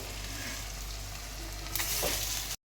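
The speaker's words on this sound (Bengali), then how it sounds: "এইটা এবার একদম স্লোতে, মানে কম আঁচে ভাজতে হবে, তাহলে ভালো হবে কড়কড়ে" Onion fritters (peyaji) frying crisp on low heat give a dense, close, continuous sizzle with a brief louder burst of bubbling near the end before cutting off.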